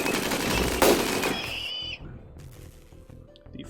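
Automated turrets in RimWorld fire a dense, rapid burst at attacking mechs for nearly two seconds, then the shooting cuts off and only faint, sparse game sounds remain.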